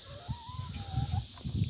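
Homestead chickens cluck softly nearby in a low, irregular murmur, with a faint thin whistle-like tone running over the top.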